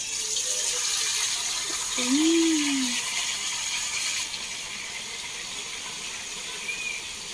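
Water poured or filled into a container, a steady broadband rush lasting several seconds, with a brief voice-like tone partway through.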